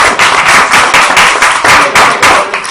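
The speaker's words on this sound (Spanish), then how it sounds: "Un aplauso." Audience applause at a talk, loud and close, with rapid rhythmic bursts of clapping that swell and dip in regular waves throughout.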